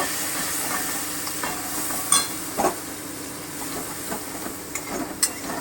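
Poppy seed paste stirred in a pan, a soft low sizzle with occasional scraping clicks of the spoon, fairly faint and steady.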